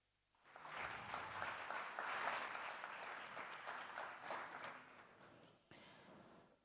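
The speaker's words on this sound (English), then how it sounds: "I would like us to clap hands for him wherever he is" An audience applauds the director of an entrepreneurship center at a startup event, sustained clapping of many hands from a full room that swells, holds steady for several seconds, then eases off near the end.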